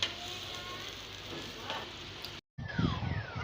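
Tomato paste frying and being mixed into vegetables in a pan, a soft continuous sizzle with faint stirring scrapes, briefly cut off before resuming louder.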